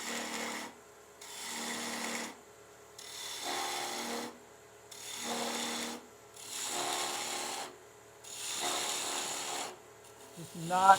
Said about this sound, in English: It's easier to get a good cut, I find, with the skew chisel if you're going a little quicker.